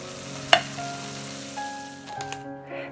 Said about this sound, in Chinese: 切好的葱花也放进去，继续翻炒，一直炒出葱香味儿